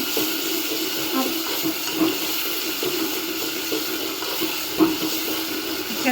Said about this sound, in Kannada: ಬೆಳ್ಳುಳ್ಳಿ ಹಾಕಿಬಿಟ್ಟು 1-2 ಸೆಕೆಂಡ್ ಆದಮೇಲೆ ಟೊಮೆಟೊನ ಹಾಕ್ಕೊಳ್ಳಿ. ಒಂದು 2 ನಿಮಿಷದವರೆಗೂ ಫ್ರೈ ಮಾಡ್ಕೊಳ್ಳಿ ಫ್ರೆಂಡ್ಸ್.